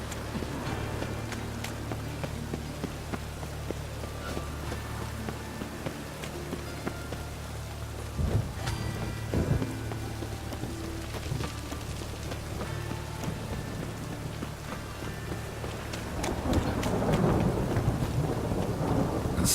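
Thunderstorm in The Witcher 3: steady heavy rain hissing on surfaces, with rolling thunder rumbling low throughout and a louder crack and swell of downpour toward the end, no voices.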